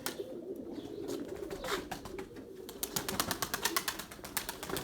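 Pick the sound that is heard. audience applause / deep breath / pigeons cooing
pigeons cooing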